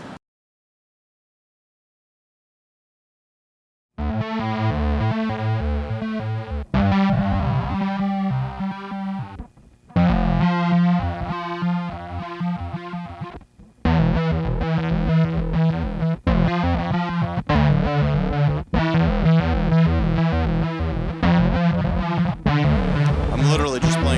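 An electric guitar runs through an Alexander Color Theory Spectrum Sequencer pedal, a few notes chopped into stepped, shifting sequenced patterns with heavy effects, starting after several seconds of silence and continuing loudly in bursts.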